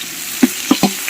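About half a kilo of sliced onions fries in hot oil for a macaroni biryani, with a soft steady sizzle broken by a few sharp stirring knocks of a spoon against the pan, close and without speech.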